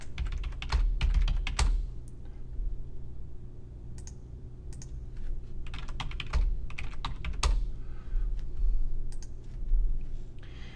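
Keys clatter on a computer keyboard while new user accounts and passwords are entered, coming in quick bursts of close, crisp clicks separated by short pauses over a faint steady hum.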